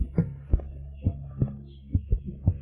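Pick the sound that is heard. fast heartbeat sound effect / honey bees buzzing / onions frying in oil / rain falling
fast heartbeat sound effect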